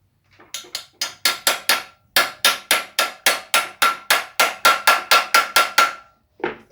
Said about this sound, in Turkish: Sonrasında ise görmüş olduğunuz alt yatağımı yerine takıyorum. Çekiç yardımıyla